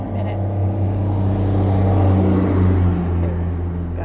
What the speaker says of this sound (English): Okay, gotta wait for the noisy truck to go by.